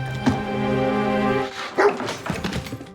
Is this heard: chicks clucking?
no